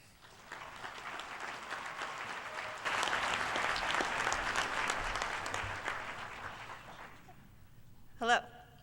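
Audience applause at a fall engineering school convocation welcoming a graduation speaker, steady clapping from a seated crowd that builds and then fades over several seconds, followed by a brief spoken word at the end.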